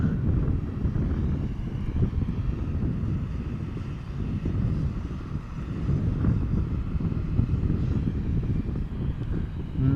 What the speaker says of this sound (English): Air France Embraer 170